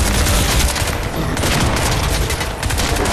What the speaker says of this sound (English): So I fire in quick controlled bursts because I don't want to lose accuracy.